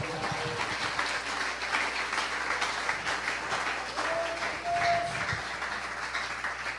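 A church congregation applauds during a Spanish-language service, a steady wash of clapping with some tonal sounds, likely music, and faint voices mixed in underneath.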